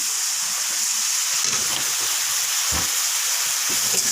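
Water poured into a pan of frying bata fish curry (kalia) sets off a steady, loud steamy hiss and sizzle, with a few low knocks and stirring bumps underneath.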